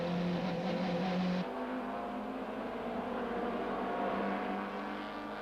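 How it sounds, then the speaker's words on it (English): Super touring cars, including Opel Vectras, BMWs, an Audi and a Toyota Camry, race down the straight at Kyalami circuit in 1995, a loud continuous engine drone with a pitch shift partway through as cars pass. "The cars come steaming down the Gestetner Straight"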